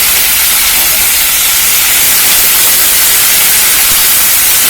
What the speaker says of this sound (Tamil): கருவேப்பிலைய போட்டு நல்லா வதக்கிடுவோம்